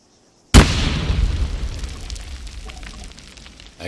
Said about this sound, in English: And this time we will throw a grenade